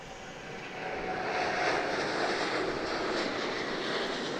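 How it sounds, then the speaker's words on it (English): A Southwest Airlines Boeing 737 departs Dallas Love Field, its jet engines making a broad, steady roar that swells within the first second and then holds strong and fairly close, with no voices. "As we're getting a Southwest 737 departure."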